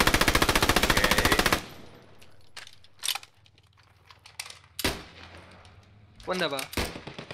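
Gunfire in the WWII shooter Post Scriptum opens with a loud rapid machine-gun burst, followed by scattered single shots and distant cracks, with brief speech over it near the end.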